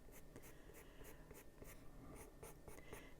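A colored pencil is stroked repeatedly over lines on paper, making quiet, close scratchy scribbles in a quick, uneven rhythm, with no talking.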